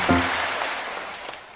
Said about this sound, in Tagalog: Sabing 7 palakpak,